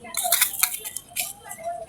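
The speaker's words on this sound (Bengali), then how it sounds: "শিলপাটা বেটে নিব। প্রথমে শুকনা মরিচগুলা দিব," Dried chillies being ground on a shil-pata grinding stone, rough scraping and crunching strokes in short bursts, close and fairly loud.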